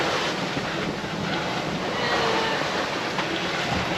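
Strong wind and waves at sea aboard a sailboat make a loud, unbroken broadband roar and rush of wind noise with surf washing underneath, no voices.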